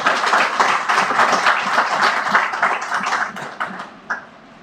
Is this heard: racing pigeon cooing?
no